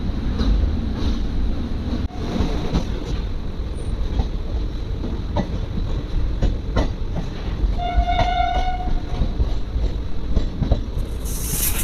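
The Kasganj–New Delhi Intercity Express rumbles slowly across the Kachla bridge with rattling wheel clacks and scattered metallic knocks, and a brief tonal whistle sounds partway through.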